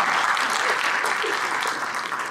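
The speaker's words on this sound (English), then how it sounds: "Yes, cheers to that. Let's clap to that." Wedding guests applaud a toast at a reception, giving a short, dense burst of steady clapping from a room full of people.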